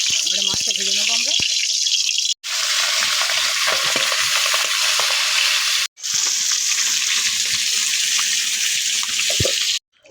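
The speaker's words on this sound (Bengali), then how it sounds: "তেল গরম হয়ে যাচ্ছে, এবারে মাছটা ভেজে নেবো আমরা।" Pond fish frying in hot oil gives a loud, steady sizzle that is broken by two short silences. A few faint clinks and a brief voice come near the start.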